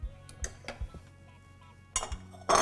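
A spoon scooping mashed potatoes into a bowl, a few soft clinks and scrapes of utensil against dish, close and quiet, with a sharper clatter near the end.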